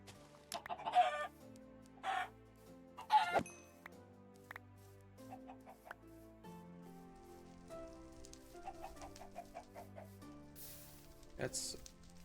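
Chickens clucking in the Minecraft video game, a few short separate bursts of poultry calls with some background game sounds and other soft noises between them.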